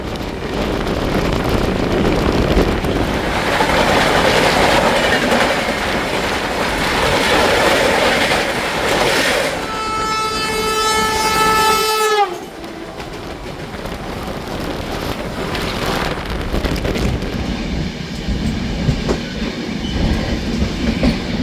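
A passenger train rolls on past Barddhaman Junction with a steady loud rumble and rattle of carriages. Midway a rising, tonal whine or horn-like sound cuts through for a couple of seconds before the clattering resumes.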